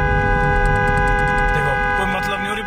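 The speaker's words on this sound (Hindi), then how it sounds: "मैं हॉर्न बजा रहा हूँ, कुछ हॉर्न का भी असर नहीं पड़ रहा।" Car horn on a highway sounding in one long continuous blare, loud and close, with road noise beneath and a voice talking over it.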